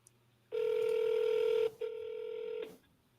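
Telephone keypad tones sound as a call goes out to a property seller: two steady touch-tone beeps, the first longer than the second, separated by a short gap and heard close and clear with no talk.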